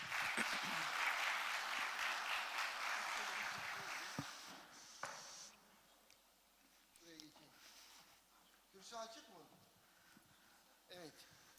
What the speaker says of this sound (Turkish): Şimdi ise bu emeğin karşılığında onları birlikte alkışlama zamanı.